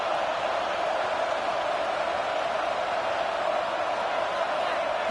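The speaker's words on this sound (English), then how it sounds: "It's early, but this crowd is fired up. Listen to this noise here." A college football stadium crowd roars in a steady, dense wash of cheering, loud and sustained throughout with no individual voices standing out.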